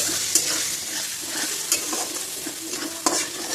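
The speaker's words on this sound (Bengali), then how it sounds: "এই যে আদা কুচি দিয়ে দিলাম।" Chopped ginger sizzles in a hot pan alongside capsicum and garlic for chili chicken, a steady close frying hiss with a few sharp stirring clicks of a spatula scattered throughout.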